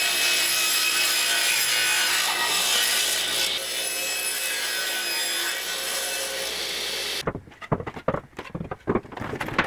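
A saw rips a taper along a wooden 1x4 with a loud, steady buzzing cut for about seven seconds, then stops into a series of uneven knocks and scrapes as the board is handled.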